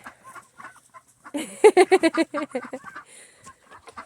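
Rooster squawking and clucking loudly as it is caught, a rapid burst of harsh calls in the middle with quieter clucks and rustling before and after.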